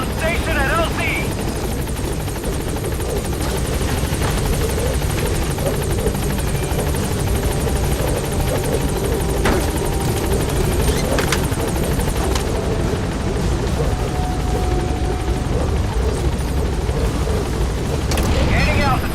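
A Metal Gear Solid V helicopter arrives at a landing zone with a loud, steady rotor drone that runs the whole time. A radio voice is faintly audible beneath it.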